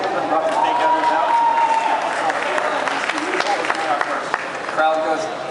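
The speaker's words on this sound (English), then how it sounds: "Crowd goes wild for Ludicolo's fake out onto Scrappy" Crowd at the Pokemon VGC 2013 Masters Finals in Indianapolis cheering and clapping in a sustained, dense roar of applause, with a commentator's voice running over it throughout.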